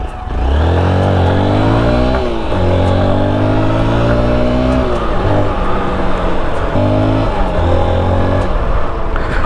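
A 2021 Honda XR 190L FI dual-sport motorcycle engine revs hard on light off-road ground, loud and close, its pitch climbing and dropping through several throttle blips and gear pulls.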